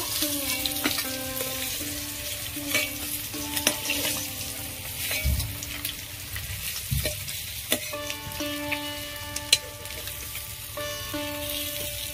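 Pieces of katla fish frying in hot oil, a continuous close sizzle broken by spatula taps and scrapes as the pieces are turned and lifted, with no one speaking.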